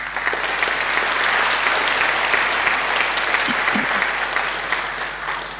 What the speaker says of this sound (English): I think he deserves a great round of applause.